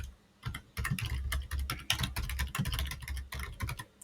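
Rapid typing on a computer keyboard, with quick bursts of close key clacks and short pauses while a PowerShell command is entered. No voices are heard.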